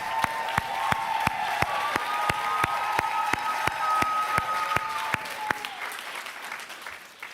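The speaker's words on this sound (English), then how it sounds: "So let's give you guys a round of applause." A commencement audience at a high school ceremony applauds continuously, a thick wash of crowd clapping with sharp regular claps close to the microphone and a faint sustained tone underneath before it thins out.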